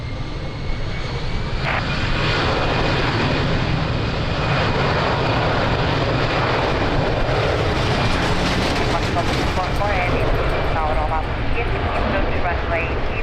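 An airliner taking off from runway 02 at Lisbon Airport on a windy day, a loud, steady engine roar that fills the whole stretch, with radio voices heard throughout.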